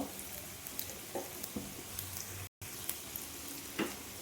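Fried snacks sizzling in a pan with a little baking soda in the batter, a steady soft crackle with occasional pops, fairly quiet, no voices.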